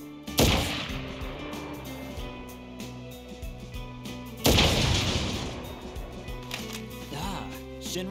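Gunfire from a gun in Crisis Core: Final Fantasy 7 Reunion, two loud sharp blasts about four seconds apart, each trailing off, over a steady game music bed.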